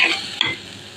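Onion browning in a pan with a little garlic paste and spices, stirred through a steady close sizzle with a brief scraping accent partway through.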